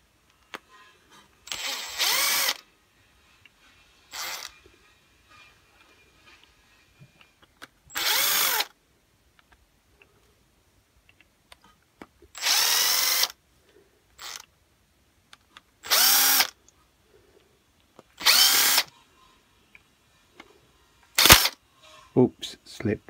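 A power driver removing six screws from a Tillotson carburetor, as used on a Stihl 08S chainsaw or TS350 cut-off saw: seven short, close whirring bursts of about a second each, spaced by quiet pauses.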